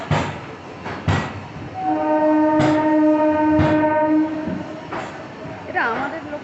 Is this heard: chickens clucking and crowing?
no